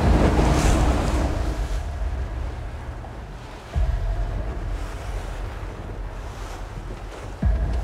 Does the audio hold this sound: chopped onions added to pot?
no